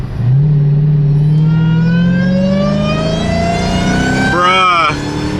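A Dodge Hellcat with an aftermarket intake revs hard. A loud, close, rising whine climbs steadily over several seconds, then stutters briefly near the end as the pull lets off.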